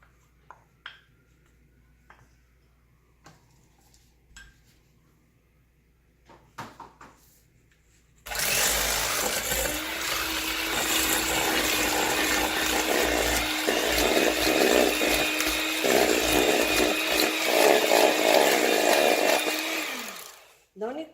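An electric mixer beats butter and sugar for cardamom cookies, starting abruptly after quiet knocks and clicks, then whirring loudly and steadily for about twelve seconds before winding down.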